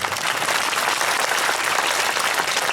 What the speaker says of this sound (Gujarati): એટલે એકવાર જોરદાર તાળીઓ પાડો હાથ ઊંચા કરી